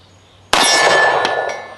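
A Hi-Point 9mm pistol shot strikes a steel target with one loud metallic clang that rings on, followed by two fainter ringing hits that fade out.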